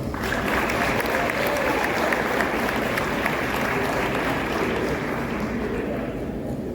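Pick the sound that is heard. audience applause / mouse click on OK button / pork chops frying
audience applause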